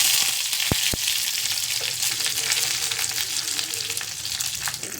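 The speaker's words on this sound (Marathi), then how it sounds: "ती मिरची घालायची लाल दोन तीन आणि हा कढीपत्ता" Two or three red chillies and curry leaves crackle in hot tempering oil, producing a loud, dense sizzle with a couple of sharp pops near the start, fading slightly toward the end, with no talking.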